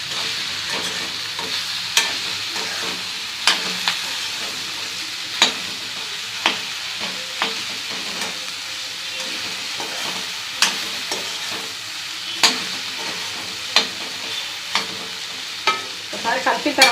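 Okra frying in a pan with a spoonful of ginger-garlic paste and little oil, stirred: a continuous close sizzle broken by regular scraping clicks from the spoon against the pan.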